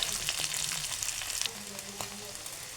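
Potatoes fry in hot oil with a bright, crackling sizzle throughout, with light scraping and stirring sounds.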